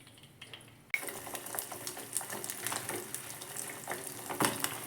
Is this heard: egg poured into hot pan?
yes